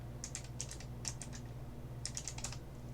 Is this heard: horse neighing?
no